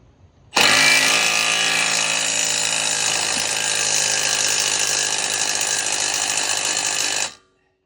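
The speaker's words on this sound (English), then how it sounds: "tighten this bolt up." A power tool tightening a bolt, a single loud, continuous mechanical burst lasting about seven seconds that starts abruptly and cuts off cleanly, heard alone.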